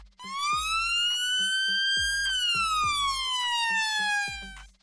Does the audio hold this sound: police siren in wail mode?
yes